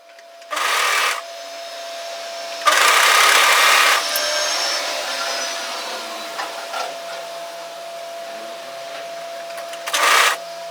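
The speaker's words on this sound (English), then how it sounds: "we want to sew, overlock together the centre back neck, which is this short seam here" An overlocker runs in three short bursts while sewing the short centre back neck seam of a raglan cross-over top, with a steady faint hum and light handling noises between the runs.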